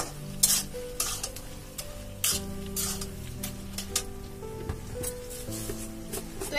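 Prawns cooking in a pan with ash gourd greens and a little water, with a steady soft sizzle and repeated clinks of a utensil stirring against the pan, fairly close and with no talk.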